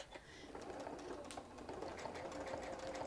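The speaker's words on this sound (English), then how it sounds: "See how it's doing a stitch and a cross stitch?" A sewing machine running a stitch-and-cross-stitch pattern on a St. Patrick's parade project makes a continuous, moderately close mechanical whir with a fine rhythmic clatter and no pauses.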